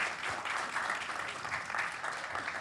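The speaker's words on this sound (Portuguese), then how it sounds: "uma salva de palmas para a mesa como um todo" An audience at a panel session gives a round of applause, dense steady clapping that fills the room for a few seconds at moderate loudness.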